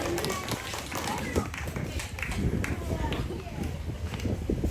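Clapping from a church congregation at a quiz contest held for a church building consecration, a steady patter of many hands filling the room, fairly close, with voices mixed in throughout.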